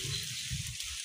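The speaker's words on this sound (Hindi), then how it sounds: "दोस्तों बहुत तेज बारिश आ रही है" Heavy rain during a village storm, a steady dense hiss of downpour heard close and loud, with low thudding from drops striking nearby surfaces.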